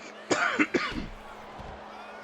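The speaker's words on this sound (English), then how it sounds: "I'm freaking coughing." Several short, sharp coughs in quick succession, close to the microphone, with a final cough after a brief pause.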